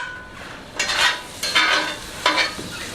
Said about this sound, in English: So these onions are caramelizing perfect.